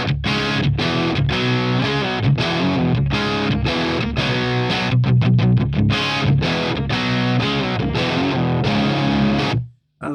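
An electric guitar played through a TWS Lulis amp gives a loud, distorted tone, with chords and chugging palm-muted riffs for about nine seconds before it cuts to silence.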